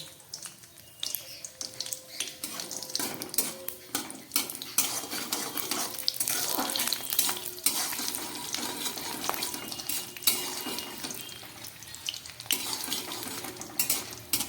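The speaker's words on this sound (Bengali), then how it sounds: "বড়িগুলোকে আমি ভেজে দিচ্ছি।" Lentil dumplings (bori) fry in white oil in a hot kadai for a winter spinach dish. A steady, fairly loud sizzle runs under frequent clinks and scrapes of a spatula and utensils.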